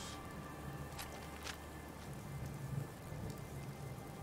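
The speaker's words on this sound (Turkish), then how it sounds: "Hala yağmur ya." Steady rainfall hisses in the Fallout 4 world, a soft, even patter with a few brief louder splashes, with no talk over it.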